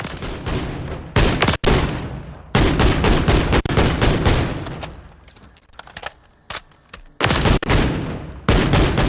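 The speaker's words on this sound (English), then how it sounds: "So firing it on full auto, it is definitely slow firing" A .50cal Beowulf rifle in Call of Duty Modern Warfare III fires full auto in several loud, close bursts of heavy, slow-cadence shots, separated by brief pauses and quieter handling sounds.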